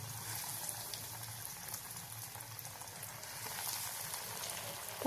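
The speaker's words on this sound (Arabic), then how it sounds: "هنبدأ ننزل بيها واحدة واحدة اهو في الزيت" Potato pieces dropped one by one into hot oil, frying with a steady, dense sizzle and bubbling hiss that continues evenly throughout, fairly close and with no voices.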